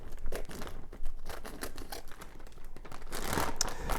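Ziploc plastic bag holding semi-thawed frozen mixed berries from Tesco, crinkling and crackling up close in irregular bursts for several seconds, growing busier toward the end, with no talking.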